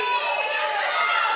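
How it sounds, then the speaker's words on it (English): Wrestling crowd at a WWA4 tag match chants in a packed venue, a dense, steady roar of many voices with sustained tonal calls, loud and continuous for a brief moment. "The crowd begging Kayla Lynn for one more chop."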